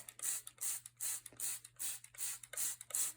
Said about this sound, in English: now I'm just going to take a spray bottle of water